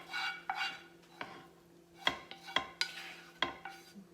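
Spoon scrapes and taps against a baking dish as a ground beef, onion and garlic mixture is spread over peppers, with irregular clinks and soft scraping up close.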